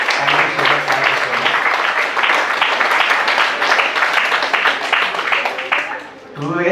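Audience in a law university orientation hall claps after a judge's lecture, a sustained, fairly loud burst of dense clapping that fades out near the end.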